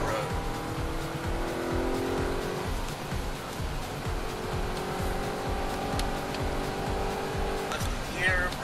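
A 2013 Audi RS 5 at speed on Sonoma Raceway, its engine a steady sustained drone with shifting tones and a brief tire squeal near the end, running continuously beneath talking.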